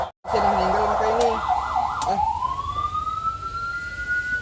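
An ambulance siren at a PMI (Indonesian Red Cross) post sounds loud and close, first warbling in a rapid yelp, then switching to a long rising wail, with voices in the background.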